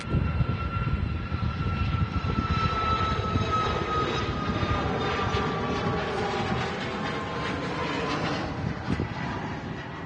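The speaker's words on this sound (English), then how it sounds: "we've got a Ryanair 737 MAX 8-200 off to Santander" A Ryanair Boeing 737 MAX 8-200 jet departs Manchester Airport, its engines a loud, steady roar with a whining tone that holds throughout, close and uninterrupted.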